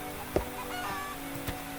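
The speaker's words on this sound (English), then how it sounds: "This one here is the barn, in which you can just hear the chickens outside." Chickens cluck and squawk faintly in the distance, a few short calls against a steady hum and a couple of soft knocks.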